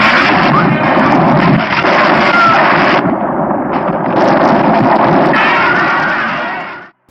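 A loud explosion from a shark attack scene on a dock in The Last Shark, a sustained roaring blast with rumbling debris that runs for about seven seconds before cutting off.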